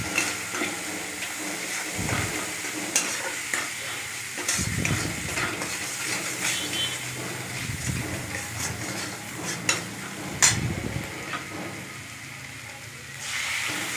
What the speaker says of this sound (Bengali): হলুদের গুঁড়ো দিলাম, জিরের গুঁড়ো দিলাম, একটু নাড়াচাড়া করে নিলাম মশলাটা